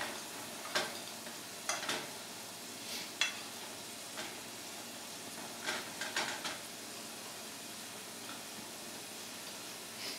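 Pork sausage patties fry over medium heat in a pan with a steady, faint sizzle, broken by sharp scraping clicks as a utensil stirs and turns them at irregular intervals. No one talks.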